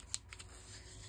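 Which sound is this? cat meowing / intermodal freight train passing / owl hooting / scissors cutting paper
scissors cutting paper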